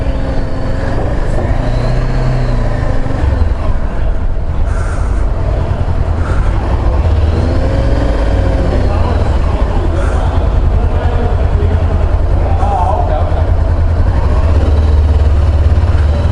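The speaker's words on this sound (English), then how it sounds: "Getting on to the ferry to go to Martha's Vineyard." Vehicles rumble onto a ferry bound for Martha's Vineyard, a steady low engine drone and clanking loading-ramp noise throughout, loud and continuous with no clear speech on top.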